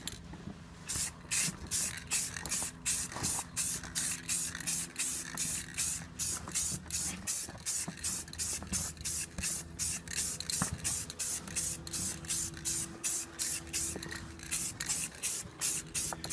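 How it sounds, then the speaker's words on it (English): Dark brown spray paint hissed from an aerosol can onto canopy legs in a rapid series of short, even bursts, close and steady throughout. "So I picked up some dark brown spray paint. I'm just going to hit these with a couple light coats."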